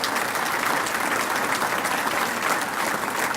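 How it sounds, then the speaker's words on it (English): A crowd at a university gathering at a winery gives a round of applause, dense steady clapping from many hands throughout. "let's have another round of applause for everybody that's representing your university."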